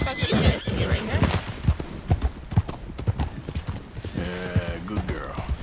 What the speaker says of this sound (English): Oh, hello, horses!